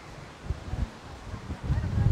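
Strong wind gusts at an outdoor tulip festival buffet the microphone in low, uneven rumbling bursts that build louder toward the end, with faint voices in the background.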